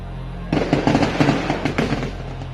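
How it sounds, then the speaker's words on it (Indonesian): Exchange of gunfire during an armed conflict in Papua: a rapid, irregular volley of sharp cracks and pops, fairly loud and densely clustered for about two seconds. "Aksi saling tembak belum surut."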